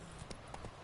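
Horse hooves in The Witcher 3 video game, a quick run of three or four soft, faint clip-clop hoof strikes in a brief moment of movement.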